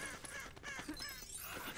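In the LEGO Lord of the Rings video game, birds are startled from the Dead Marshes and a crow caws. Several quick, harsh caws mix with the flutter of wings over a busy game soundtrack.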